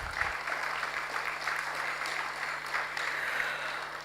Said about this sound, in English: I think he deserves a special round of applause.